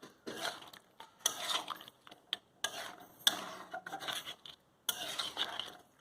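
A spoon stirs crab curry mixed with boiled masoor dal in a pot, Odisha style, giving irregular scraping and clinking bursts against the metal with short quiet gaps, close and moderately loud.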